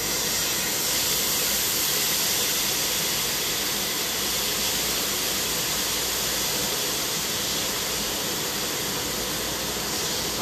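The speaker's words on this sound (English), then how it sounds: "So I'm going to put a little bit of soy sauce in the pan." Soy sauce hits a hot pan while pan-searing salmon, giving a loud, steady broadband hiss and sizzle that holds evenly the whole time with no pauses or talk.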